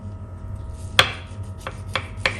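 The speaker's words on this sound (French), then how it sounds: "J'ai bien envie de couper une tranche pour vous montrer un petit peu l'intérieur" A knife slices down through a soft parmesan loaf cake, one crisp cut followed by three lighter scraping strokes, close and fairly quiet with no talking.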